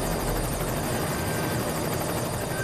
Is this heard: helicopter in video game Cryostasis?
yes